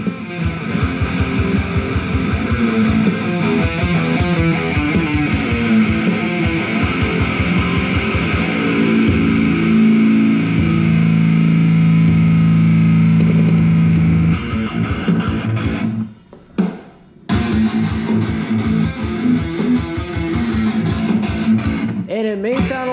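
Music plays loudly through the front two fairing speakers of a Harley motorcycle inside a garage, a steady full mix with bass and vocals that dips briefly before resuming.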